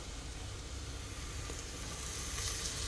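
Crushed ginger, green chili and garlic hiss in hot oil with golden-browned onions for a pressure-cooker chicken biryani, a steady close sizzle that holds at an even level throughout.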